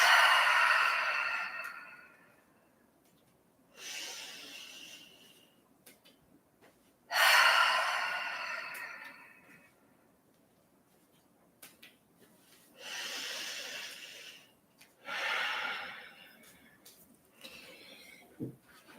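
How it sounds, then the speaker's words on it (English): Slow, deep breaths drawn in through the nose and released through the mouth, five or six close, airy cycles separated by quiet pauses during a guided meditation. "Deep breathing in through the nose and out through the mouth."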